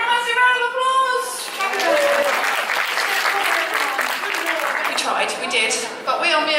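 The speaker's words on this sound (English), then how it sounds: "Give a massive round of applause!" Audience clapping in the Great Hall at the Harry Potter Studio Tour, a sustained burst of applause from a crowd; a voice is heard at the start, then the clapping fills the room until the end.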